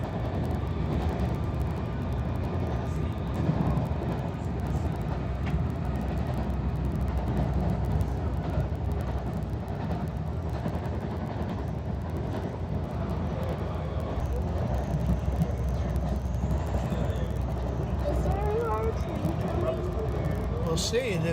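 A Norristown High Speed Line train picks up speed leaving the yard, a steady loud rumble and rolling rail noise heard from on board, with a rising whine near the end and faint background voices.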